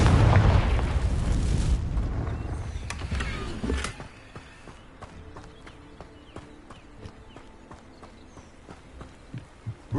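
A heavy explosive blast from the Confringo spell in Hogwarts Legacy booms loudly, followed by a rumbling decay and a scatter of smaller clattering impacts and debris settling as the noise fades.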